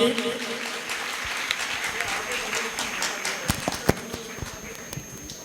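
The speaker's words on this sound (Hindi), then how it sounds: "चलिए एक बार उनके लिए जोरदार ताली बजाएं" Applause from an audience at a Jain temple altar consecration ceremony, a broad steady patter of clapping throughout with a few sharper claps standing out near the end, while a voice carries on over it.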